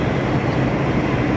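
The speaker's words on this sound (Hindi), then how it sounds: "आ गई हमारी वैशाली मेट्रो।" Delhi Metro train on the Vaishali line pulling into an elevated station, a steady loud broadband rumble and rail roar throughout with no break and no talk.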